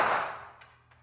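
Hellcat pistol fired at a target on a 5-meter range: one loud, sharp report opens the sound and decays quickly, with faint clicks after it.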